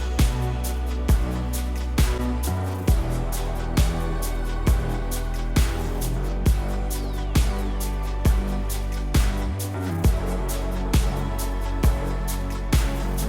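A full mix played through a Shadow Hills Mastering Compressor plugin in discrete mode, set with a slow attack and quick release for clean mastering. Loud and dense, with steady punchy beats, sustained bass and no talking.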